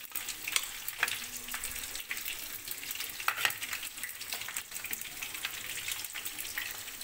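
Garlic and whole dry chili paste frying in oil, a soft steady sizzle and crackle with a few sharp pops and spatula taps, close but fairly quiet.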